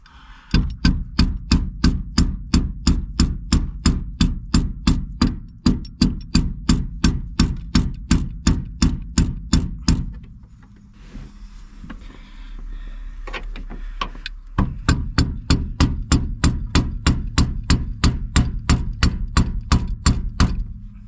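Rapid, regular metallic taps from a large adjustable spanner ring out in long runs, broken by a pause with scraping and shuffling before the tapping resumes.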